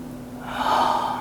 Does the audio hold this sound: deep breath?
yes